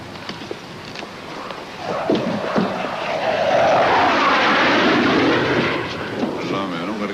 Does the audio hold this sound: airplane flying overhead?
yes